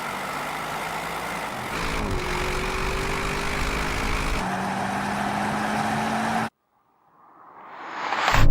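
Audi RS7, BMW M8 and Mercedes-AMG GT 63 S cars in a drag race, engines roaring steadily up through gear changes before cutting out abruptly, then another car's roar swelling in loud and close.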